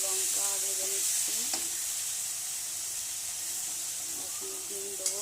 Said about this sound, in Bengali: পেঁয়াজ, টমেটো, লঙ্কা ভেজে নিচ্ছি।